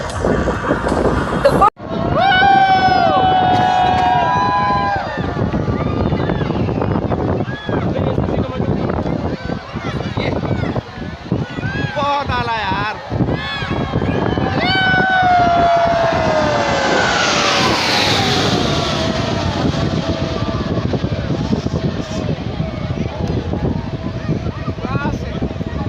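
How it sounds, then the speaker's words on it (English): K-8 jet aircraft flying a sustained turn at a Pakistan Air Force airshow in Karachi, a loud engine roar that swells and falls with whining tones, heard alongside crowd noise and voices. "Please observe the sustained turn rate of K-8 aircraft."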